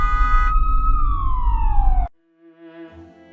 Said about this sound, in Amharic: በዛ ላይ አምቡላንስ ቆሟል።